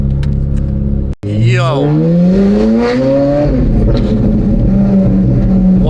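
A Ferrari 458 Spider fitted with F1 race exhaust headers revs hard up close, its loud, rising engine howl climbing in pitch over a couple of seconds then holding a steady high drone, with a brief shout at the start.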